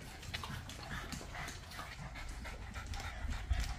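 Several Boston Terriers pant hard after exercise, a continuous rapid breathy panting from more than one dog, close by, with faint scuffling and no speech.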